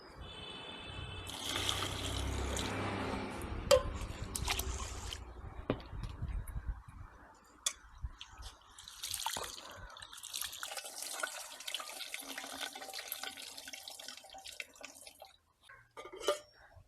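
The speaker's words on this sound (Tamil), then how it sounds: "தண்ணியில் கழுவினால் சரி." Parboiled rice being washed in water in a village home kitchen in Sri Lanka, with close sloshing, dripping and splashing plus occasional clinks of a pot, rising and falling in bursts throughout.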